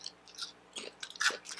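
Crunchy bites and chewing on barbecue-flavored potato chips that are not very crisp, a few close, quiet bursts of crunching separated by short pauses.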